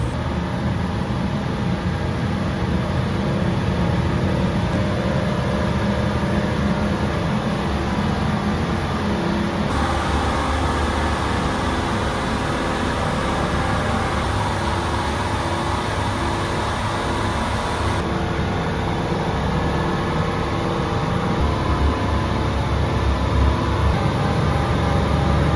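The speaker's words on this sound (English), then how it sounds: "you can hear me over the compressor, always noise in the body shop" An air compressor runs steadily in a car body shop during a Jaguar E-Type restoration, a constant broadband hum and hiss with a faint high whine that cuts in and out.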